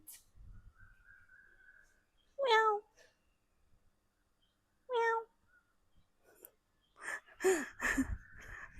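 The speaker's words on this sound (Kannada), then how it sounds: "ಬೆಕ್ಕು ಗೈಸ್" A cat meows three times, clear drawn-out cries spaced a few seconds apart on a quiet early-morning walk, with faint rustling between them.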